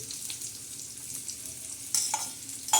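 Garlic and cumin seeds sizzle in hot oil as a tempering for a ridge gourd and chana dal dish, a steady soft crackle with a couple of louder spits near the end.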